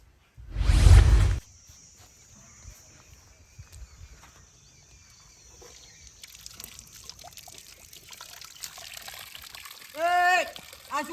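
Water runs from an open tap at a borewell supply point in a village, a steady trickle and splash heard after a loud burst, ending with a voice rising sharply.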